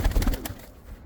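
Racing pigeons arriving at a loft, a short burst of soft low cooing and a faint wing flutter, close by and brief.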